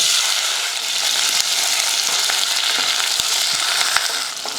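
Shallots, curry leaves, green chilies and small garlic cloves fry in hot oil with a steady, dense sizzle and a few soft stirring clicks, close and continuous without any talk.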